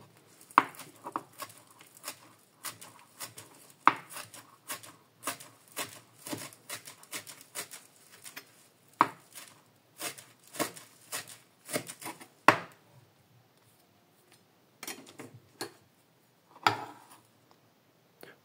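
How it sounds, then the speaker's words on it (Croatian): A knife chops fresh watercress leaves on a cutting board with quick, rapid taps, loud and close, broken by short pauses and a few sharper knocks. "Nasjeckajte svježe listove potočarke."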